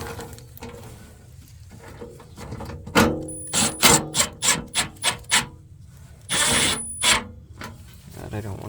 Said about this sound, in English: Longer 1/4-inch screws, which are going into the actual piece of sheet metal